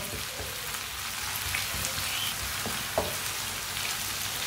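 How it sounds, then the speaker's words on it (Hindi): Chopped garlic, ginger and tomato sizzle and crackle steadily in a hot oiled pan for a daal karela dish, a close, even hiss with a few small pops and no talk. "थोड़ा सा ना इधर से पका लेते हैं लहसुन और अदरक को।"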